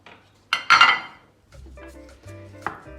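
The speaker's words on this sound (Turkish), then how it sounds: "Şimdi doğradığımız tavuklarımızı ekliyoruz tavamıza." A loud clatter and sizzle as chopped chicken drops into a hot frying pan, followed by a quieter steady frying hiss with light clinks of utensils.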